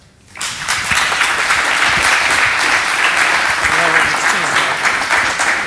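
Sustained audience applause at a tech conference talk starts abruptly and holds steady at full volume, a dense wash of clapping from many hands.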